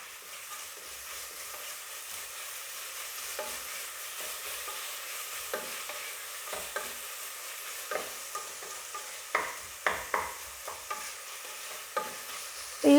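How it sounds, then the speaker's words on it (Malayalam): Onion, garlic and green chilli sautéing in a pan for a rice dish, a steady soft sizzle under scraping stir strokes that grow sharper and more frequent toward the end, with no voices. "ഇനി ഈ സവോളയും വെളുത്തുള്ളിയും പച്ചമുളകും കൂടെ കിടന്ന് നന്നായിട്ടൊന്ന് വാടിക്കിട്ടണം"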